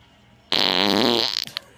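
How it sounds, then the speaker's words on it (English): Fart: a single loud, close, buzzing flatulence burst lasting under a second, trailing off into a few sputtering pops, with no talk over it. "hubby's down here farting."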